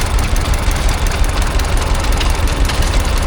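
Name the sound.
Peloton stationary engine running a generator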